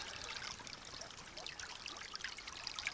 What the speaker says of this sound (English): I'm just set up here with my little sluice, little net sluice.